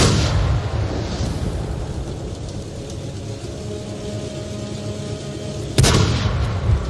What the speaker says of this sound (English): Now, another artillery, I know where he is because I saw his arc.